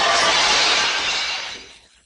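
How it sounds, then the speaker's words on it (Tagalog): Mirrors shatter in one bright, loud crash of breaking glass in an anime fight scene, the hissing spray of shards fading away within two seconds. "Ayaw niya maguluhan sa mga salamin kaya binasag niya ang mga ito."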